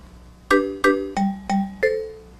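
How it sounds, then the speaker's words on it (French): A French-language TV word game show from 1999 sounds its bell: five bright ringing chime notes in quick succession, each decaying briefly, clear and alone with no talk. "La cloche nous indique que nous en sommes au dernier jeu de cette première ronde."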